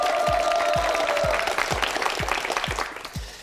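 A studio audience on the KBS Korean word quiz show applauds a contestant after time runs out, a short burst of clapping with a fading tone and regular low thumps beneath, tapering off toward the end.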